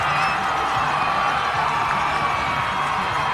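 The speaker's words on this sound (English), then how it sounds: "Listen to this crowd!" A college football stadium crowd cheering after a touchback in a Loras versus Benedictine game, a dense, loud, continuous roar with scattered whoops filling the whole stretch.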